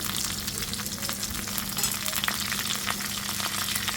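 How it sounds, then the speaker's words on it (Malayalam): Curry leaves and dried red chillies frying in hot oil give a dense, steady sizzle with sharp crackles and pops, close by, with no voices. "അത് പൊട്ടിത്തുടങ്ങുമ്പോൾ കറിവേപ്പില ഉണക്കമുളക്"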